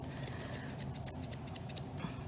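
Scissors snip through the long coat of an English Springer Spaniel during a summer haircut, a quick irregular run of close, crisp metallic cuts over a steady low background hum.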